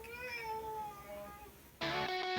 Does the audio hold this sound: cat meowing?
yes